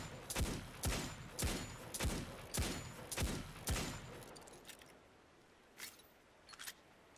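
Hand cannon fire in Destiny 2, the Dead Orbit Agamid: about seven sharp shots in a fairly even rhythm over four seconds, then a quieter gap with a couple of faint clicks.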